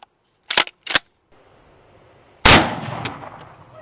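A 12 gauge shotgun fires a slug at a steel dumbbell outdoors: two short metallic clanks first, then one loud sharp blast with a ringing impact and a decaying tail.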